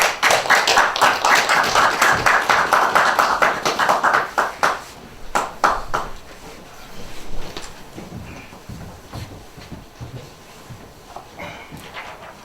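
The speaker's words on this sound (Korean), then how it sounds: "김성진 박사님 나오실 때 박수로 환영해 주시기 바랍니다" Audience at an academic forum for young scholars applauds to welcome Dr. Kim Seong-jin to the podium: a dense burst of clapping lasting several seconds, then thinning into scattered claps and fading out.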